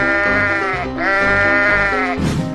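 Sheep bleating loudly and close, a few wavering calls in quick succession filling the short stretch.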